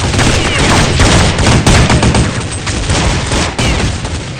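Sustained gunfire in Counter-Strike 1.6, dense overlapping bursts of automatic rifle shots with sharp cracks, loud and continuous throughout.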